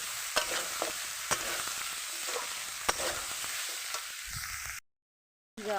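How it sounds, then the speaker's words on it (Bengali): Coriander and chili powder frying in oil while being stirred for a vegetarian potato curry, a continuous bright sizzle with periodic spoon scrapes and taps, close up, cut off by a short silence near the end. "ধনের গুঁড়ো, লঙ্কার গুঁড়ো ভালো করে ভেজে নেব।"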